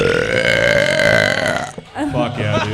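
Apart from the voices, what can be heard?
burp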